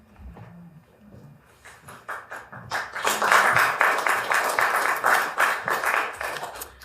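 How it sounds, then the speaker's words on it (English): Audience applause at a small poetry and spoken word open mic, starting sparse and thin, then swelling into a fuller burst of clapping that holds steady for several seconds. "Come on, I deserve applause too."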